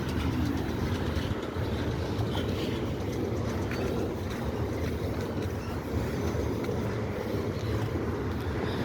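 A Norfolk Southern freight train rolls past on the Delair Bridge, a continuous low rumble and rattle of wagons that stays steady throughout, with some wind buffeting the microphone.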